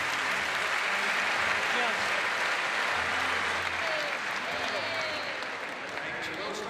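Spectators at a squash match roar and clap in a long, dense burst of applause and cheering that slowly eases, with a commentator's voice audible beneath it.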